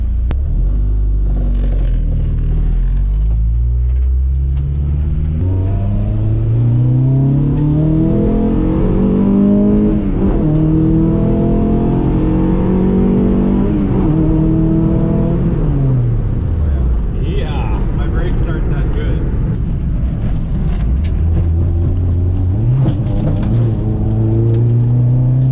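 A modified Honda Civic project car's engine revs hard from inside the car, deep rumbling pulls rising and falling through gears as it drives, loud and close, with voices talking over it.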